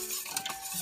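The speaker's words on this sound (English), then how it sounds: "We're gonna start to stir the eggs." Eggs for a cake batter being stirred in a bowl, a brief burst of close whisking and utensil clinks lasting under a second, with no voices.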